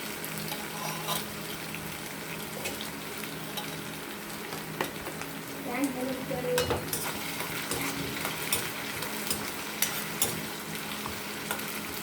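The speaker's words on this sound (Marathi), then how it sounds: "जे बटाटे मी चिरून घेतलेले आहे ते पण इथं टाकून घेते" Chopped potatoes fry in a pan after garlic paste, giving a continuous sizzle with frequent scraping stirs and light utensil clinks, moderately close.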